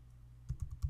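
Mouse clicks in ELAN annotation software: a quick run of four or five soft, close clicks after a brief quiet stretch, with no speech.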